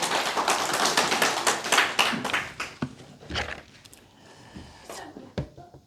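Church congregation clapping together during a sermon, a dense burst of applause for about three seconds that thins into scattered claps and fades.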